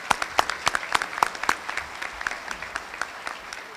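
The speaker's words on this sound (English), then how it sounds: "And a round of applause again for you guys." An audience at a civic event in Owensboro, Kentucky claps in a brisk burst of sharp individual claps that gradually thins out, fairly close and with no talking.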